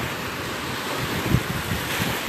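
Ocean surf rolls in steadily on Clearwater Beach on an August morning, a continuous wash of waves with wind buffeting the microphone and a slightly louder break midway.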